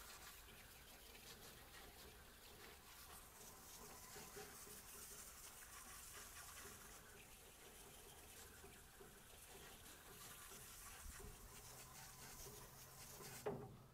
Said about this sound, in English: You're just going to hit this with a little water,